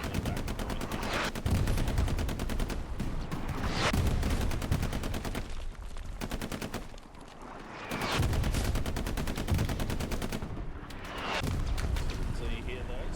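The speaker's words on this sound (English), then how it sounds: "Looks like artillery is just obliterating the back point here." Heavy battlefield fire in a WWII shooter on the Carentan map, with repeated gun bursts and booming artillery in waves and a commentator talking throughout.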